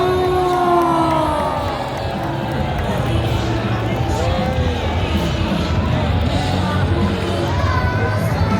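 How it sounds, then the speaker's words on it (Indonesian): A large outdoor crowd at a TNI anniversary air show at Monas cheers and yells steadily, with dense babble and whistling calls, while aircraft maneuver overhead. "tepuk tangan yang meriah untuk stadium Manuver"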